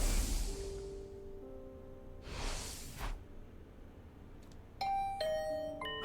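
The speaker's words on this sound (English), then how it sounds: "Is that my doorbell?" A doorbell chimes in two bright, ringing tones near the end, following soft whooshing swells, in the video game The Hundred Line.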